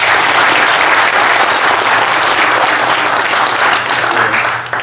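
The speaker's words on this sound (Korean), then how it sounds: "박수 한번 좀 부탁드립니다." Sustained audience applause fills a Dongguk University Gyeongju campus Buddhist dharma service, loud and steady throughout, easing slightly at the very end.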